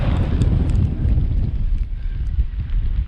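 Strong mountain wind roars across the microphone in continuous heavy gusts on a high trail near the Czech-Polish border, with a rumbling buffeting throughout and no speech.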